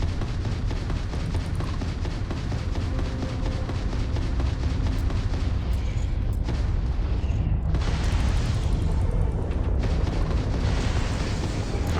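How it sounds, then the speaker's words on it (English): Space torpedoes firing and exploding during space combat in a video game, heard as loud, rumbling explosive bursts and booms in rapid succession, dense and continuous with sharper blasts around the middle. "I'm using my space torpedoes."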